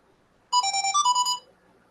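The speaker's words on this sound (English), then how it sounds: "Getting a phone call." A phone ringtone plays a short bright melodic burst of tones, loud and close, alone against near silence.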